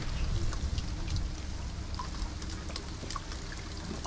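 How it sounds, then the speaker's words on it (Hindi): Steady rain pours outside in the horror game Thần Trùng (The Death), a dense, continuous hiss with scattered drop patters over a low rumble throughout. "बारिश हो रही है बाहर"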